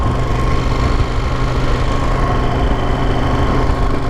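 A Moto Guzzi Stelvio motorcycle engine runs with a loud, close, steady rumbling throb, an even low mechanical drone throughout with no voices.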